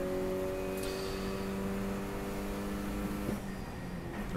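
Race car engine holding a steady high drone during an endurance race on a circuit, heard from inside the car, with a brief shift in pitch near the end as it pushes through a slow corner.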